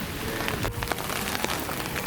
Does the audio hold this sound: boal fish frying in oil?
no